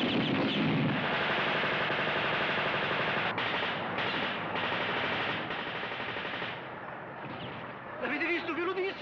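Bursts of machine-gun fire rattle on and off in a war-film battle scene, loud and dense at first, then thinning, with shouting voices mixed in among the shots.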